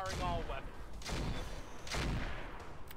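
Large heavy lasers fire in the Roguetech mech game, three loud, dense bursts about a second apart, each one a harsh roaring blast that washes over a steady din of battle.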